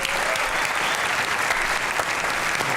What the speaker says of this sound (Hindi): बहुत दिनों बाद भरपूर तालियां